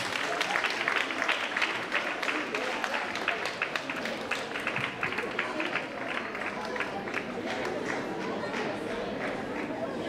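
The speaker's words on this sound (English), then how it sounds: "And please a round of applause." Applause from the audience at a preschool and primary school graduation ceremony, a steady wash of clapping throughout with scattered voices and chatter mixed in.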